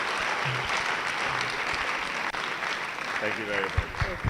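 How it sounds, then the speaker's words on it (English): Steady audience applause rolls through a hall at an education summit and graduation ceremony, a continuous even patter of many hands at moderate distance, with a few voices and a brief speech fragment near the end. "Who clapped for her?"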